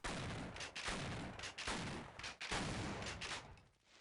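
Shotgun fire in the video game Half-Life, with dense, loud repeated blasts filling the whole stretch, several sharp reports in quick succession and no voices.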